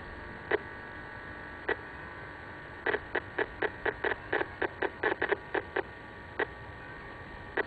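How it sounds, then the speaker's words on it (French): Pulsed microwaves from a standby mobile phone, made audible through a Ghostmeter detector: sharp, evenly spaced electronic clicks over a steady hum, sparse at first, then a rapid irregular burst of pulses before thinning out again. "Ce que nous entendons là, ce sont des micro-ondes pulsées qui sont émises en permanence, donc par un téléphone portable en veille."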